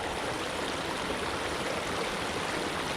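A small suburban creek flows with a steady, even rush of water close by. The noise is continuous and has no voices over it.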